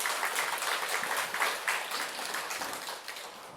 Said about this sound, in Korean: 박수를 한번 하도록 하겠습니다.